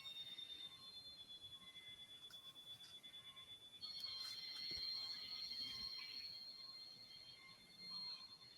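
Several alarms sound together from an industrial control panel during a simulated emergency: steady, high electronic tones that overlap and grow louder about halfway through, with no talking.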